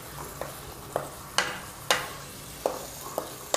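Boiled black chickpeas are stirred into fried masala in a pan, with sharp spoon scrapes and knocks recurring every half second or so over a soft sizzle, close up and without speech.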